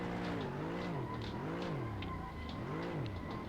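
Simulated race car drifting in Assetto Corsa, engine revving in rising and falling sweeps as it is flicked sideways, with tire squeal layered over the repeated throttle blips, close and continuous.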